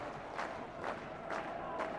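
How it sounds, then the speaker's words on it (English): Football crowd at a Preston match doing a slow handclap, broad distant claps recurring about every half second over steady stadium murmur. "The crowd reacting with the slower hand clap."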